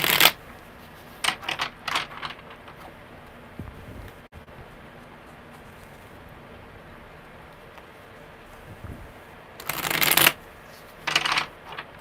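Tarot cards are shuffled in short riffling bursts, one at the start and two near the end, with a quiet stretch of room noise in between.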